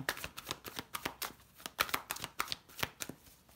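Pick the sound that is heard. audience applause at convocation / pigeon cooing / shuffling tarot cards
shuffling tarot cards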